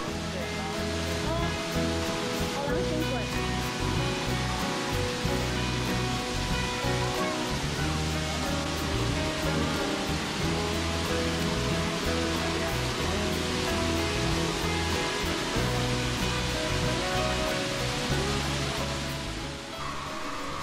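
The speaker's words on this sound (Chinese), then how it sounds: "虽然说瀑布本身并不大，但是也是声势惊人，听起来像是千军万马奔腾" Grotto Falls, a small waterfall in the Great Smoky Mountains, roars in a dense, steady rush of falling water that stays loud and unbroken throughout, with faint voices of visitors mixed underneath.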